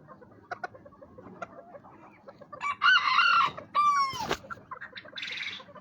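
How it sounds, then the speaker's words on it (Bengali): Small Malaysian Serama chickens cluck softly nearby, then a rooster crows twice in quick succession, followed by more clucking. "এগুলো হচ্ছে মালয়েশিয়ান সেরেমা শো সেরেমা"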